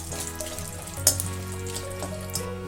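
Dried red chilies frying in hot oil for a gongura pickle: a steady, close crackling sizzle with a faint background hum and a small clatter partway through, no talk.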